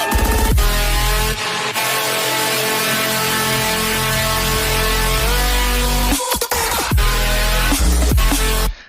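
Final drop of an electronic music track in its original version: dense, loud, full-range synth and bass wall with brief cutouts and hits near the end, continuous and without any voices.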